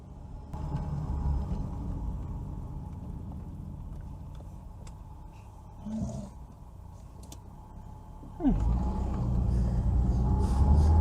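A Citroën BX driving, its engine and road noise a steady low rumble from inside the car that swells as it accelerates near the end, with occasional faint clicks.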